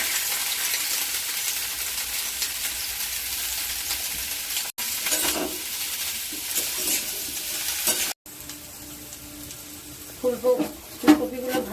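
Cauliflower florets fry in a pan for a vegetarian potato and cauliflower curry, a continuous close sizzle broken by two short cuts, with stirring and a few clinks toward the end and a voice speaking at times.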